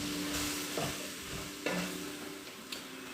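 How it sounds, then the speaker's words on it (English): Beef and vegetables are stirred in a pot to coat them in flour, giving soft scraping strokes every second or so over a steady, close sizzle, with no talking. "Right now I'm just coating everything in the flour."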